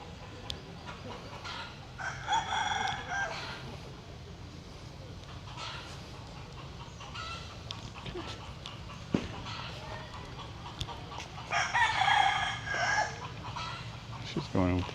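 Chickens and a rooster call in an outdoor botanical garden in Angkor, with clucking bursts near the start and a louder crowing or calling burst later, mixed with ambient noise and occasional talk.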